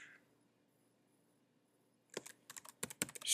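After two quiet seconds, a burst of close, crisp keystrokes sounds on a computer keyboard in quick irregular clicks, ending on a louder clatter.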